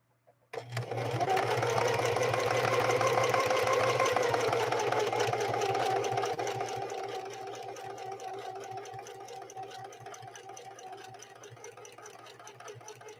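A Singer 4411 heavy-duty sewing machine stitches a mountain stitch in one continuous run, its loud, steady mechanical whir starting abruptly and easing slightly in strength toward the end, with no talk.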